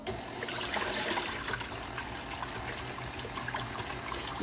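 Cold ice water splashes and trickles steadily over homemade butter as it is rinsed in a mixer bowl, a continuous watery wash with no talking.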